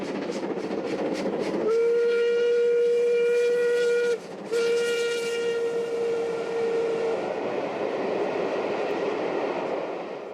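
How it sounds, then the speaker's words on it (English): A preserved steam locomotive runs at speed on a main line in Devon, its loud continuous rumble and rail noise carried throughout, with a long sustained steam whistle sounding twice in the middle. "steam can now be seen regularly at mainline speeds in nearly all parts of the country"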